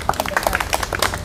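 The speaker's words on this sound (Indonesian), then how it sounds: "Berikan sorak-sorai buat Tuhan." A church congregation claps rapidly and irregularly in praise to God, a brief close burst of many hands applauding together.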